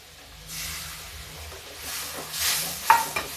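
Tomatoes going into a pan of cooked spice masala: a low sizzle that swells into a brief hissing burst, with a couple of light utensil clinks near the end.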